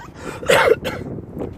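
A person coughs and clears their throat, a short rough burst and a second smaller hack, nearby and alone.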